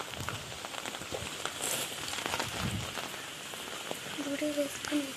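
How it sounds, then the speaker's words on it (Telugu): Heavy rain pours onto a village street in a steady broadband hiss with scattered drop patters. Wind comes before a storm, a voice speaks intermittently, and a brief tonal sound appears near the end. "అంత పెద్ద వర్షం స్టార్ట్ అయింది"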